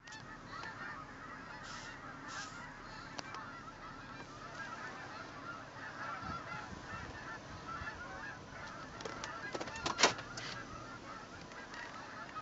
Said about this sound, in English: Geese are somewhere. I can hear them. I can't see them.